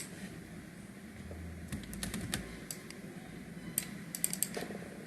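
Fingers tapping a computer keyboard while entering a PLC address, soft scattered keystrokes in short bursts and clusters, close and quiet against a faint room hum.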